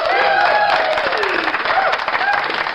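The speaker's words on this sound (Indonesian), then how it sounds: "Bagi dia tepuk tangan saudara-saudara." Dense crowd applause as a sound effect, loud and continuous, with a voice or whooping tones gliding over the clapping.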